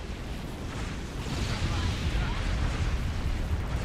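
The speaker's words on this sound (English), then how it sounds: "by the time I actually did the carpet bomb, they'd already killed it" Carpet bombing in the strategy game Halo Wars: a continuous, dense low rumble of explosions that swells after a moment and holds steady and loud, with faint voices mixed under it.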